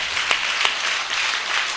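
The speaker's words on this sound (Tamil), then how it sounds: "கைதட்டுங்க பார்க்கலாம்" Many people in a church congregation clap in a continuous, even wash of hand claps, with a couple of sharper accents near the start and no voices.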